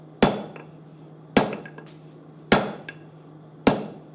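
Blacksmith's hammer striking hot metal on an anvil during forging, four sharp ringing blows at an even pace of about one per second, each with a short bright decay and faint lighter taps between.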